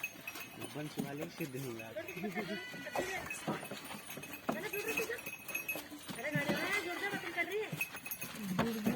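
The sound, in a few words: goats bleating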